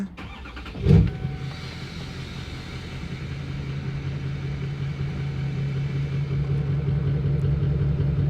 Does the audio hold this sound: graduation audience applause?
no